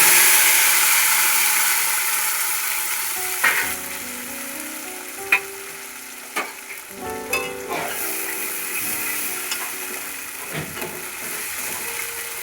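Ground spice paste added to a pan of hot oil tempered with black cumin, frying with a steady soft sizzle broken by sharp clinks and scrapes of a spoon stirring.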